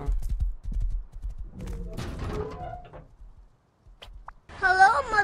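Horse hooves clip-clop in the survival video game Rust, a quick run of close, loud hoof beats at the start that fades, followed by scattered game noises and a short burst of talk.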